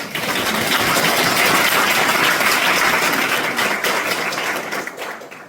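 An audience at a Korean periodontology society academic conference applauds the society president: loud, dense, sustained clapping that fades toward the end.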